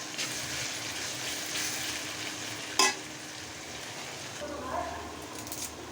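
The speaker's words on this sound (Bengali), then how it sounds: "পেঁয়াজটা ভালোভাবে একদম ভাজা ভাজা করব, কারণ নতুন পেঁয়াজ ভাজা ভাজা করা যায় না," New onions fry with salt in a pan, a steady low sizzle broken by a sudden loud clatter and stirring noises near the end.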